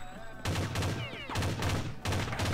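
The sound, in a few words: gunfire from a video game shooter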